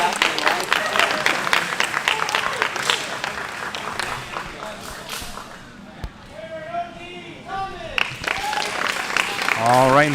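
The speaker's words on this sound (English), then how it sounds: "Let's give a round of applause for our competitors." Crowd applause at a combat jiu jitsu invitational event, a dense burst of clapping that thins out midway, with a voice calling out over it near the end.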